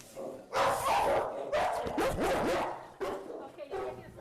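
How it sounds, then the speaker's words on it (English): A curious pit bull at an animal shelter barks loudly and close by in several bursts, mixed with whimpers and a person talking soothingly over the noise. "a curious pit bull who had ended up sniffing my mic before barking so loudly I had to jump back in surprise"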